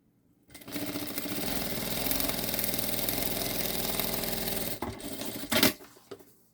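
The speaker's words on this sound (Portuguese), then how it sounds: "faço uma costurinha uns 3 milímetros ou um pezinho de máquina de cada lado" A sewing machine runs a continuous burst of stitching along a seam of a synthetic-panel drawstring backpack, a steady close whirring hum lasting about four seconds, then a couple of knocks and a clunk as it stops.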